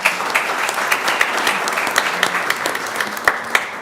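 An audience at a school board of education meeting claps for an absent student award recipient, a brisk round of applause with sharp individual claps standing out, fairly loud and steady throughout.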